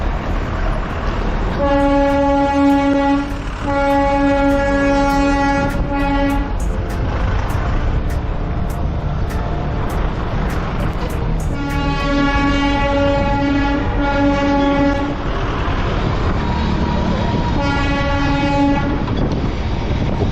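A Darjeeling toy train runs past with repeated long horn blasts over a steady rumble and clatter of wheels, the horn sounding in several bursts across the stretch.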